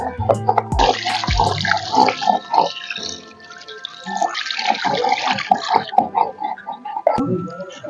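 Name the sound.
washing chicken meat under running water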